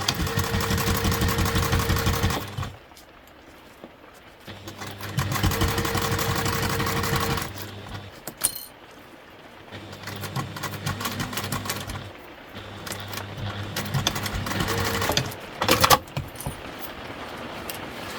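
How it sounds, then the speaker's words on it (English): A sewing machine stitches across the top of a fabric shoe bag, running in several motorized bursts separated by brief pauses and softer handling noises. "we're going to stitch right across the top"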